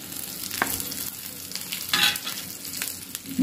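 Grated coconut, chilli and curry leaves frying in hot oil, a continuous close sizzle with a few sharp spatula scrapes and stirring bursts, no voices.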